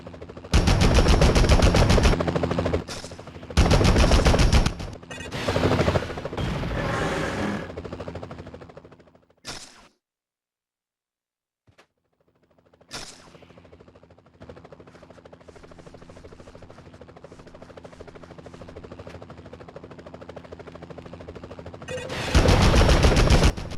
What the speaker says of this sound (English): We can still get shot when we climb all the way up to the top though, because at that point the helicopter's apparently caught up with us.